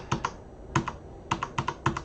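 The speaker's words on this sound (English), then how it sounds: "so if you start typing, so I'm going to start with the E" Computer keyboard typing at a Unix/Linux terminal: short clusters of crisp, close keystrokes, mostly in pairs, spaced by brief pauses.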